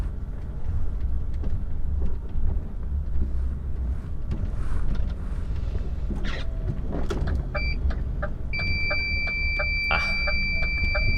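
Steady electronic beeping from an HGV truck's turn indicator, starting partway through over the rumble of the truck's engine in the cab on narrow country lanes, no talking.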